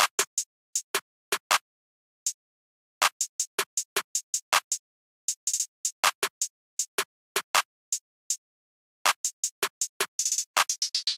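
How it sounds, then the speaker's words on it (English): A sparse programmed drum pattern of snare, clap and hi-hat from a dark trap beat, with crisp isolated hits in a loose rhythm and dense rapid hi-hat ticks near the end, dry and alone. "the snare pattern with the clap and the hi-hat is sounding like this"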